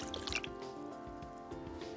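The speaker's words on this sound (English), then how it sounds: "Add water in a pot." Water is poured into a cooking pot over vegetables, giving soft continuous trickling and dripping at close range for a couple of seconds, with no talk.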